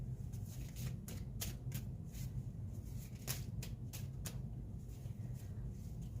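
Small handwritten message cards shuffled by hand, a steady run of soft riffling clicks and brushes over a low background hum, with no talking.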